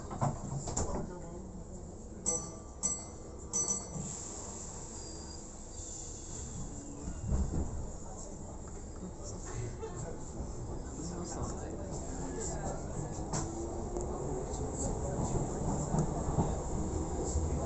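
A Merseyrail electric train runs from Port Sunlight toward James Street, giving a steady rumbling hum that swells over the ride, with a few door or coupling clunks early on and onboard announcements spoken over it.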